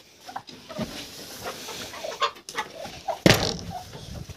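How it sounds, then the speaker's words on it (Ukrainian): Crested laying hens clucking in a farmyard among turkeys, with scattered soft clucks and short calls at moderate distance and one louder squawk near the end. "Дивіться, дві он чубатухи"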